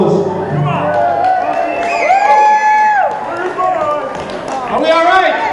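A concert crowd at a two-tone ska show cheers and whoops loudly, with clapping mixed into the roar, while a voice on the microphone carries over the top for much of the stretch.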